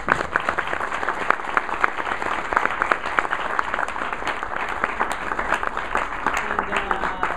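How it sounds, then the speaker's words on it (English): A lecture audience gives a sustained round of applause at the close of a Tuesday evening talk on interpreting Muhammad, dense even clapping running steadily for over seven seconds without speech on top. "Please let's give a big round of applause."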